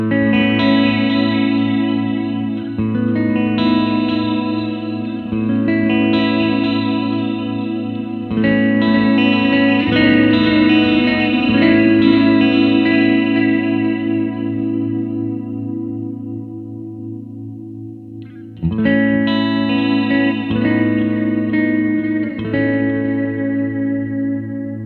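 Electric guitar chords ring through a Flamma FS03 digital delay with modulation, a shimmering, modulated delay, repeats swirling and trailing off, with a brief pause before strumming resumes.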